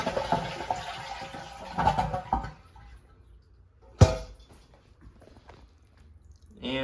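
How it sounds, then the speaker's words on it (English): A toilet flushes and drains close by during a repair of a leaking shut-off valve, with gurgling water rushing away then trailing off into a quiet, drained bowl. "And to drain the toilet, I'll give it a flush."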